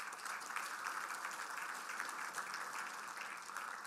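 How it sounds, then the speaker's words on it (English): Steady audience applause at a public infrastructure debate, a broad even patter of many hands clapping at moderate distance, continuous and fairly soft throughout. "thank you, a round of applause."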